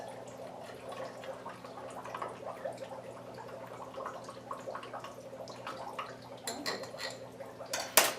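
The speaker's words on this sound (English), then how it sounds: "And stir it up." A spoon stirs fizzy homemade lemonade in a cup of water, giving soft clinks and liquid swirling over a faint fizzing hiss, with a few sharper knocks toward the end.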